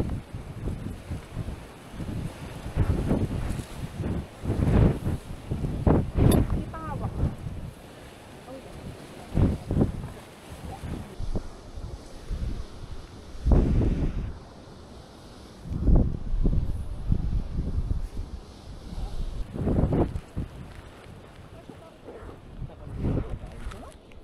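Strong gusty wind on a mountain hike on Mt. Guiting-Guiting buffets the microphone in heavy rumbling bursts, with rain and voices talking intermittently beneath the roar.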